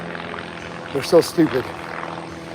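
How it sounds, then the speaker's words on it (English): A helicopter flying overhead during an outdoor morning walk gives a steady, distant rotor drone beneath a brief burst of nearby talking. "that is a helicopter, not a leaf blower"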